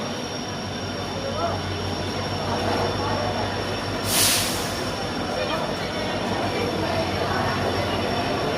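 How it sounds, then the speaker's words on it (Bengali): The Tamralipta Express train sits at a station, with a continuous rumble of rail cars and a brief squeal midway under a steady background hum. "দেখতে পাচ্ছেন আমাদের তাম্রলিপ্ত এক্সপ্রেস"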